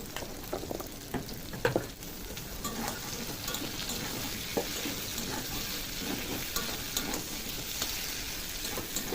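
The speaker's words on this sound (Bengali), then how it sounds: "পেঁয়াজ চিংড়ি মাছ ভাজা হতে হতে আমি উস্তেগুলোও দিয়ে দেবো কাটা, যাতে উস্তেগুলো হালকা ভাজা হয়ে যায়।" Onion, shrimp and sliced bitter gourd fry together in a pan, a continuous close sizzle broken by scraping stir strokes and a few clinks of the spatula against the pan, with no voices.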